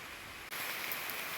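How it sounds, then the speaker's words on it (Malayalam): Heavy rain falls on a misty hillside at Kodakara in Thrissur, a soft, even patter that swells slightly after a brief dip and continues steadily without speech. "ഇപ്പോൾ നല്ല മഴയായിട്ടാണ്"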